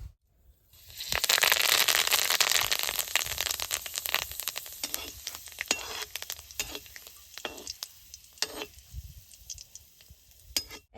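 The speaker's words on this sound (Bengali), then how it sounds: "তেলটা গরম আছে, কারি পাতাটা দিয়ে ভাজা নিব।" Curry leaves dropped into hot oil crackle and sizzle loudly at once, the fizzing frying noise settling into sharp intermittent pops and spits that gradually thin out over the following seconds, with no talking.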